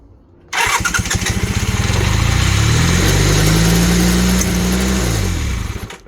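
A Honda Hondamatic 400 motorcycle that sat unused for over 20 years cranks and fires up, then settles into a loud, close, steady running note with a rhythmic exhaust pulse and a slight rise in pitch before it fades at the end.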